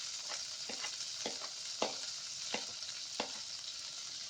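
Pandan and curry leaves frying in hot butter for a mushroom curry, a steady hissing sizzle broken by about seven soft rhythmic stirring scrapes, close and moderately quiet, no speech.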